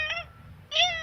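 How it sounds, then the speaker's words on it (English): A female cat gives two soft, brief meows with a short gap between them, close but quiet, the second slightly stronger, in an otherwise quiet room. "it's a whisper meow whenever she meows."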